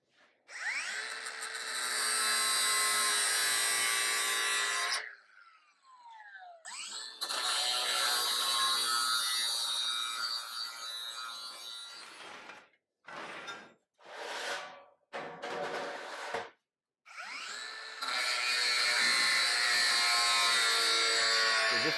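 A power tool cuts straight through sheet metal in several loud, harsh, buzzing passes separated by pauses, with shorter choppy bursts in the middle before a final long cut, all close by.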